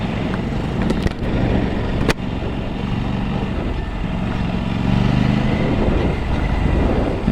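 A big bike motorcycle engine drones steadily while riding, a loud, close, continuous rumble with wind noise and a couple of brief clicks early on; no talk.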